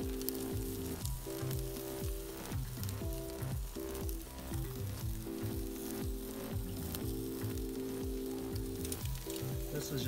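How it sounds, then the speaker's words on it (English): Chicken breasts searing in a hot pan, a dense crackling sizzle that carries on steadily under a faint rhythmic background hum, close and fairly quiet with no speech. "we're gonna just do a quick little sear on these"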